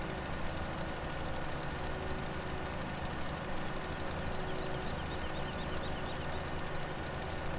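A John Deere tractor engine in the Farming Simulator 17 game drones steadily and loudly with a dense, rough mechanical rumble that never changes over several seconds. No one speaks.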